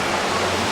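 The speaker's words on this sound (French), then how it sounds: "la cascade de Farumai" Farumai waterfall in Tahiti, a steady, dense roar of falling water heard up close and loud, with no break or talk.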